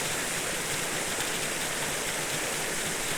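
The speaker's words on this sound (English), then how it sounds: "The waterfall is so full, especially after some heavy rain." A full waterfall in Roe Valley Country Park, swollen after heavy rain, roars as a steady, dense broadband rush of falling water, loud and unbroken throughout with no voices.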